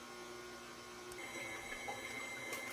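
An electric mixer kneads hot cross bun dough in a home kitchen, giving a steady motor hum with a whirring mechanical drone that grows slightly louder partway through, alone without talk.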